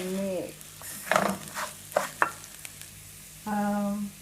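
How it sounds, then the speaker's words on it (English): A spoon stirs a rice mixture in a cooking pot, making several scraping, clattering strokes against the pot, close and moderately loud, with a steady background hum and a tonal whine at the beginning and end. "So we'll stir and mix."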